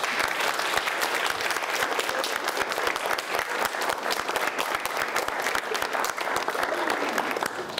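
Junior high school audience applauding a spring musical cast at a reception, steady dense clapping from a full room throughout, fairly close and even in level.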